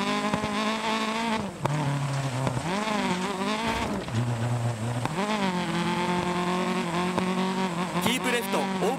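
Rally car engine in DiRT Rally 2.0 running with engine damage, revving hard and loud with rising and falling pitch through gear changes and a brief tire squeal, while a co-driver calls pace notes over it.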